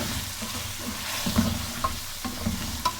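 Beef karahi with green chili and ginger stirred and frying in a pan, a steady sizzle with scraping stir strokes and occasional clinks, close and continuous.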